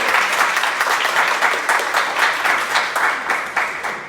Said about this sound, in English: if I may just ask everyone to give Hannah a big round of applause